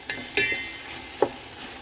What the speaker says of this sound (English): Once it come up to that good old sizzle,